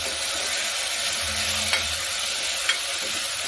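Spices being stirred into spinach khichdi in a hot pan give a steady, close sizzle with soft scraping of the spoon and a couple of brief clicks, with no voices.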